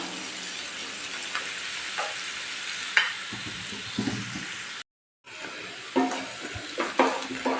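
White sorghum fries with onion in a pan, a continuous hiss of sizzling oil with occasional stirring knocks and a brief drop to silence partway through.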